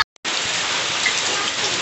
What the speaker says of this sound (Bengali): বাইরে ভীষণ জোরে বৃষ্টি হচ্ছে